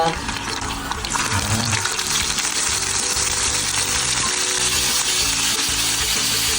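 Homemade Filipino longganisa sausage fries in olive oil in a pan, giving a steady, close sizzle and crackle with a watery hiss throughout.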